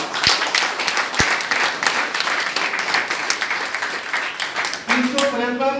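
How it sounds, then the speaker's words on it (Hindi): An audience at a staff gathering applauds, opening with a couple of sharp, close claps before settling into steady, even clapping. A voice starts speaking near the end. "एक बार आपके लिए मैं ताली बजाऊंगा"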